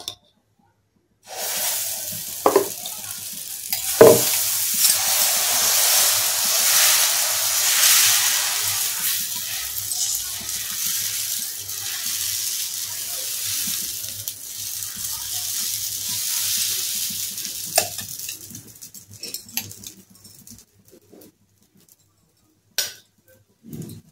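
Pesarattu, a green gram dosa, fries in oil on a hot pan with a loud, steady hiss that starts abruptly, holds for most of the stretch, then fades out, with a few sharp clicks near the end.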